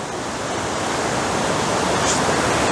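Water pours steadily over the Monsal Head weir, a continuous broadband rush that fills the whole clip at a constant, fairly loud level with no voices.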